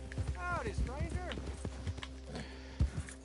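Horse hooves clip-clopping in the Red Dead Redemption 2 video game, a light irregular run of soft hoofbeats with a brief whinny-like call, fairly faint, mixed with game ambience.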